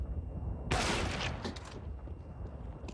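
Burst of gunfire in a competitive Counter-Strike match on a Deagle pistol, a sharp loud crack with a short ringing decay, followed by fainter scattered shots in the background.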